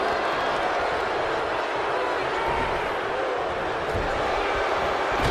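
Arena crowd in the WWE 2K wrestling video game, a dense, steady roar of many voices sustained at high level throughout without a break.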